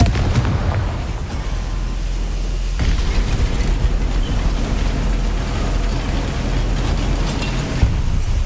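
A Confringo explosive spell blast in Hogwarts Legacy, a loud, roaring burst of noise that rumbles on steadily for several seconds without any speech.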